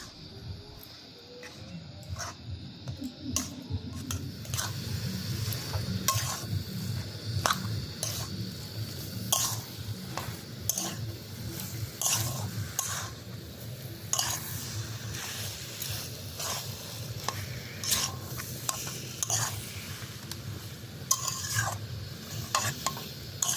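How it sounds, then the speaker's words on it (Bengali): Chopped ginger and green chili stirred in a hot pan, a low steady sizzle broken by frequent sharp scrapes and clicks of the spatula against the pan in an irregular rhythm, close and alone. "এবার আদা আর কাঁচা লঙ্কাটাকে ভালো করে মিশিয়ে আর একটু রান্না করে নেবো"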